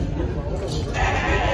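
A goat bleating at a wholesale livestock market in Taxila, one drawn-out nasal cry heard close amid busy crowd noise, with people talking over it.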